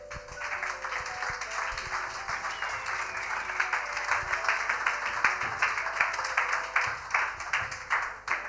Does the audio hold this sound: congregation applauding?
yes